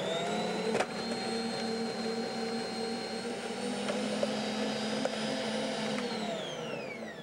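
A kitchen machine grates a block of homemade cheese, a steady loud whirring motor drone with a few brief knocks, running unbroken for several seconds.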